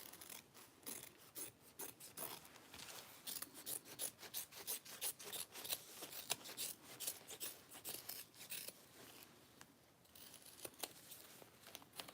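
Scissors trimming excess material from a handmade bag, heard as many quick, crisp snips and rustles in an uneven rhythm, close and faint, with no speech.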